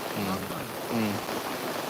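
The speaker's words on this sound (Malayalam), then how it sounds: "പോരാത്തതിന് നല്ല ഇടിയോട് കൂടിയുള്ള മഴയും പെയ്തുകൊണ്ടിരിക്കുന്നുണ്ട്" Heavy monsoon rain falls steadily over a flooding paddy area, a dense, continuous patter on surfaces. A voice talks briefly over it, and no thunder stands out.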